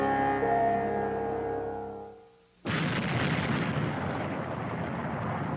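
Volcanic eruption explosion recorded in 1927, in an old archival recording: a sustained, loud, rumbling blast roars in abruptly after a fading tonal passage and a brief near-silence, then continues as dense, broadband noise.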